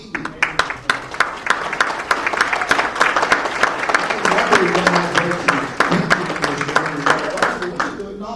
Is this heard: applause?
yes